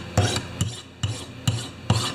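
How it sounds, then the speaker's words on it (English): A hand tool blade is sharpened with a file in quick hurried strokes, five distinct rasping passes spaced evenly about every half second, close and fairly loud with no talk. "it didn't come that sharp, guys, so I'm sharpening it as I go"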